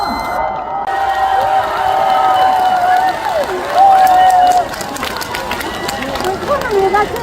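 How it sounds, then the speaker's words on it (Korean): Concert audience at a trot singer's live show roars with loud, steady cheering and crowd noise, with high shouted voices ringing over dense applause throughout. "박수 많이 주세요"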